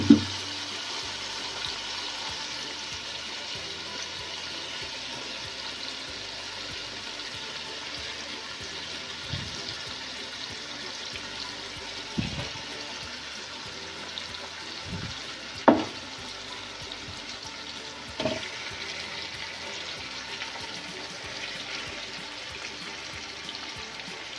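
Beef trotters sizzle in frying masala, a long, even, moderately quiet hiss with a few sharp clanks and thuds spaced apart, no voices.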